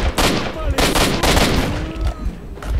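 Rapid gunfire in S.T.A.L.K.E.R.: Shadow of Chernobyl, a first-person shooter game: loud close bursts of automatic fire, repeating several times over a few seconds, with a brief quieter gap between volleys.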